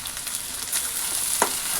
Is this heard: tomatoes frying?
yes